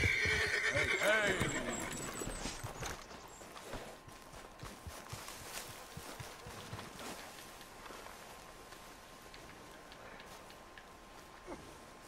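A horse whinnies loudly at the start, followed by steady clip-clopping hooves that fade under quieter background sound.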